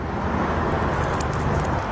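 African grey parrot imitating a car engine starting, producing a continuous rough, rumbling engine-like drone that stays steady and fairly loud throughout.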